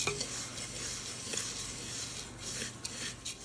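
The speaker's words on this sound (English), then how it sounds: "I'm going to add a 1/2 cup of brown sugar and mix my dry ingredients up." Dry ingredients for baked oatmeal, brown sugar among them, are mixed in a bowl, making a soft continuous scraping and rustling with a few light clicks of the utensil, close and fairly quiet, with no talking.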